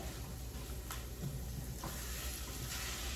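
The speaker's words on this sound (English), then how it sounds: "we start toasting the rice in the oil until everything is coated in oil" Parboiled rice toasts in hot oil in a pan, giving a faint, steady sizzle with a few soft scraping stirs at intervals and no voices.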